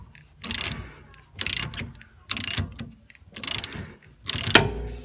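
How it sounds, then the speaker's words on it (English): Socket wrench cranking a pinion flange puller on a Ford Mustang rear differential: five evenly spaced bursts of rapid ratchet clicking, close and fairly loud, with brief quiet gaps between strokes. "as we crank on this one with our socket, it's going to push that post against the pinion, and then the flange is going to be pulled off"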